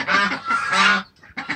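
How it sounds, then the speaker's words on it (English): Geese and ducks on a farm, loud close honking and quacking calls in two long bursts, a short pause, then a few more quick honks, with no talk. "These are the geese, the normal ducks with us"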